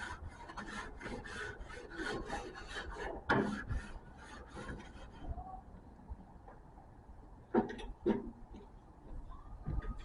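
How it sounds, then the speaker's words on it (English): Close rasping scrape of a tool across a grill grate while cooking lamb chops, several uneven strokes that fade to quieter scuffs with a couple of sharp knocks near the end. "Scraping the grill."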